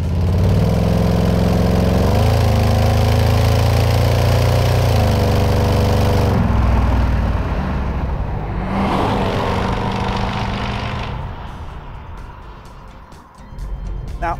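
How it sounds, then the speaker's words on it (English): A Bristol car's V8 engine rumbles and burbles up close, a loud steady low drone that dips and rises with the throttle before easing off toward the end. "The V8 is just gorgeous. It rumbles and burbles, and when you want it, there's power."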